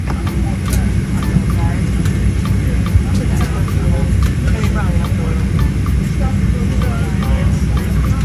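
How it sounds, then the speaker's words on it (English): Airplane pulling out of airport gates at night, a steady loud engine roar and rumble mixed with busy background noise, no clear talk. "another airplane pulls out of the gates"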